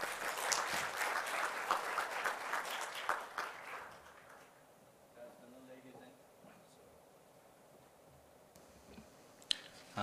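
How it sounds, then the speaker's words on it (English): Warm applause from a conference audience welcoming a session chair at a national branding forum, full for about four seconds before fading out into a quiet hall with faint shuffling and a few stray clicks. "Please welcome with a warm round of applause"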